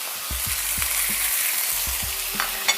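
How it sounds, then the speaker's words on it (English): Beef for a Thai grilled beef salad sizzles loudly on a hot grill. The hiss is continuous and close, with a few soft low knocks underneath and no voices. "Yes, you are looking for this loud sizzling sound."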